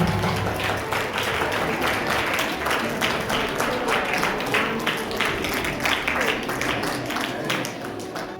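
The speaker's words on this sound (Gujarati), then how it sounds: "આપણે જોરદાર તાળીઓથી આપણે પણ એનું અભિવાદન લઈ અને સ્વાગત કરશું" An audience at a children's Bal Sanskar Kendra competition in Jiyapar claps to welcome the president, producing dense, sustained applause that stays loud and even throughout.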